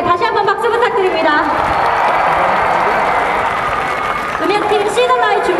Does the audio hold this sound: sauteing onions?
no